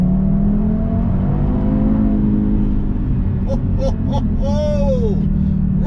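A 2014 Audi five-cylinder engine in a hot tune drones steadily and loud, then rises in a sweeping rev near the end, close and continuous without talk.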